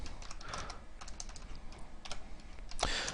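Fast, uneven typing on a computer keyboard, a steady patter of clicks close up with a few louder key strikes near the end, no voices.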